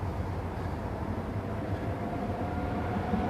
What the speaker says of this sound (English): There's a tram coming by.